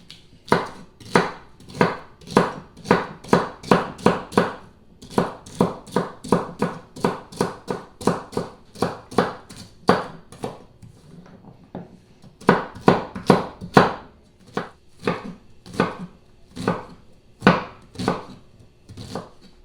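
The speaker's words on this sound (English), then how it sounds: "So I'm going to chop everything up." Vegetables for turkey soup chopped on a board with a knife, a steady run of sharp, close knocks about two or three per second, with a brief pause midway before the rhythm resumes.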